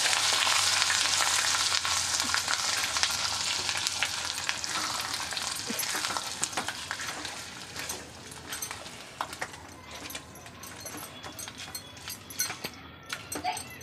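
Bottle gourd chutney ingredients stirred in hot oil in a pan, a steady broadband sizzle that starts loud and slowly fades, with scattered scrapes and clicks of the spoon toward the end.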